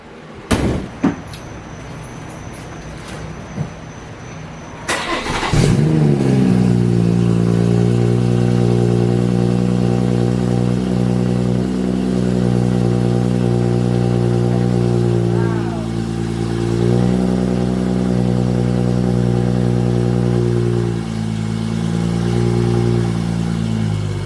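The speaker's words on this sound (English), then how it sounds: "So that's the cold start and some revs." A BMW B58 engine with a newly installed downpipe cold-starts after a door slam, catching with a sharp bark and then settling into a loud, steady idle with a few brief revs rising and falling.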